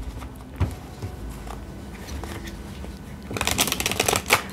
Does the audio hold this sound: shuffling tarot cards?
yes